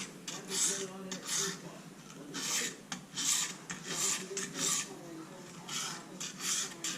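A utility knife blade is stroked back and forth on a sharpening stone, a rhythmic series of close, gritty rasping passes at a steady pace.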